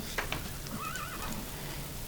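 Horses in the Minecraft Mo' Creatures mod give a wavering, high game whinny midway through, over a steady low background hiss, with a couple of soft taps near the start.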